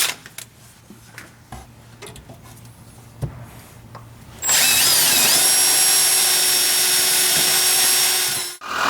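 A power drill bores into the frame of a 1963-72 Chevy/GMC truck during a longbed-to-shortbed conversion, starting midway with a loud, steady whine after a few quiet clanks and taps, then running continuously to the end.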